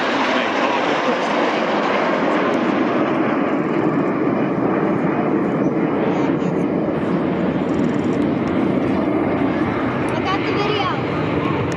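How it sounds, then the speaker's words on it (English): RAF Red Arrows jets roaring overhead while flying the Big 7 reversal at an airshow in Baltimore, a loud sustained broadband engine roar, with a commentator talking over it. "Here they come, reversing around from the right-hand side in the Big 7 reversal."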